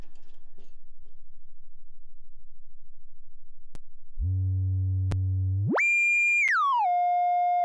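A WMD C4RBN analog filter in FM mode gives a steady low sine-like tone that jumps to a higher, brighter pitch and then glides down to a sustained middle pitch, clean and electronic with no voices.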